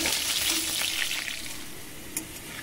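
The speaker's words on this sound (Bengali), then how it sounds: "আলু লাল লাল করে খুব সুন্দর ভেজে নিয়েছি" Potatoes dusted with turmeric fry in a pan, giving a steady close sizzle with a few scraping stirs throughout and no talking.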